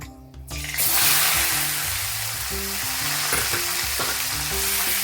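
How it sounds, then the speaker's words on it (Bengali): Ground onion paste goes into hot oil already fragrant with fried green cardamom, bursting into a loud, steady sizzle that holds strong throughout, with occasional stirring scrapes in the pan and no voices. "এখন আমি দিয়ে দেবো পেঁয়াজ বাটা"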